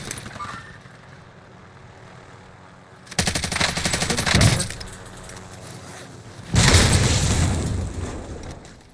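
Automatic gunfire in Call of Duty Warzone near a chemical plant helipad: two loud bursts of rapid shots, each about a second and a half, over a constant background rumble.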